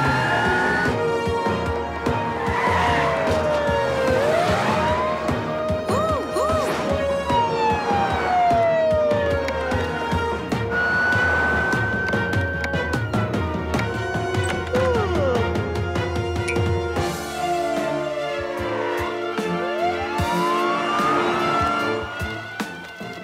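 A police car siren from the Bubble Guppies cartoon wails in rising and falling sweeps over engine noise and music, loud and continuous for over twenty seconds.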